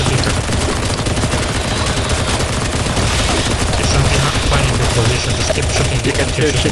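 Dense, continuous automatic gunfire from many weapons in the CS:GO zombie escape mode, loud and unbroken, with rapid overlapping bursts and occasional faint voices under the shooting.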